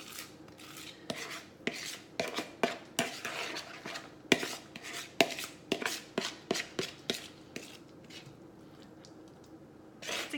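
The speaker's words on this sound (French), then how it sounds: "Fait que je vais mélanger ça." Artichoke dip being mixed in a bowl: a run of irregular scraping and knocking strokes of a utensil, close and moderately quiet, with no voices.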